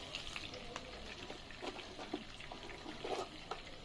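Bay leaves, whole green chilies and chopped onion frying in oil, with a faint, steady sizzle broken by light crackles and small stirring clicks.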